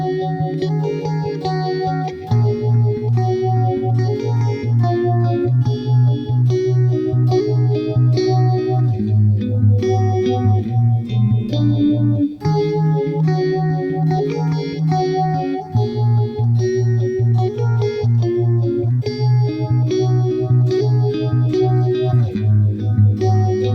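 Electric guitar playing a song at full tempo, a looping picked chord progression over sustained low notes, chorus and echo on a slightly driven tone, continuous and loud with no voices.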